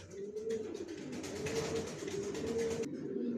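Original racer pigeon squabs cooing close by in soft repeated low coos, with a brief rustle or flutter partway through.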